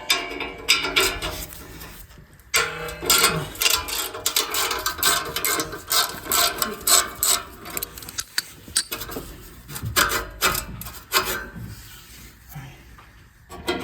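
A ratchet with an E12 Torx bit loosens the exhaust tips on a Porsche 911 (991) Carrera S, giving close, busy bursts of clicking and metallic rattling with short gaps between.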